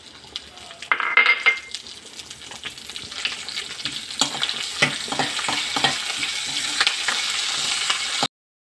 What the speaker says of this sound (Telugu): ఆవాలైతే చిట్పట్లాడుతున్నాయి, ఎంత మంచి సౌండ్ వస్తుందో